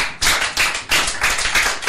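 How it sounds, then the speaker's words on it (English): A church congregation gives a clap offering, loud bursts of group clapping in a rough pulsing rhythm, several surges in under two seconds. "Give a clap offering to Jesus."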